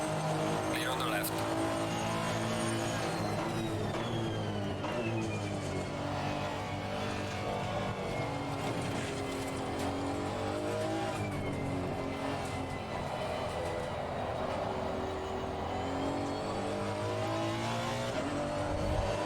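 Several GT race cars in Assetto Corsa Competizione run at Silverstone with steady engine drone and rising and falling pitch as a faster car closes in, continuous and loud under a talking driver.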